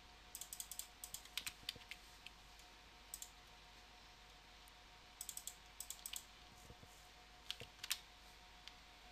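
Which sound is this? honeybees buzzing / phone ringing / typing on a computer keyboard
typing on a computer keyboard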